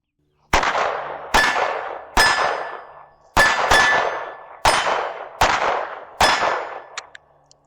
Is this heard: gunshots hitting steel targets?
yes